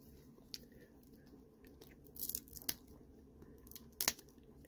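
Wax pack of 1992 Topps basketball cards being torn open, brief crinkly tearing and crackling bursts around the middle and near the end over a quiet background, close and fairly soft.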